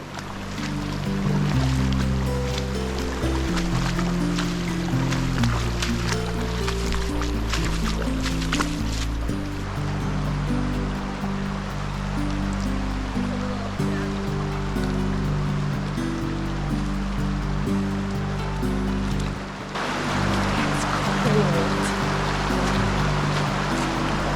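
Continuous splashing and rushing water up close while wading across the Yankee Fork of the Salmon River, with sloshing movement through the stream and wind-like noise, no voices, steady for the whole stretch.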